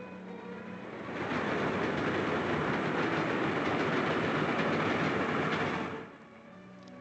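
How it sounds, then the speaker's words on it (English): A train passes in a 1941 British drama, its rumble and clickety-clack of wheels building quickly to a loud, steady roar, holding for several seconds, then cutting away as it goes by; no speech. "Look at that train."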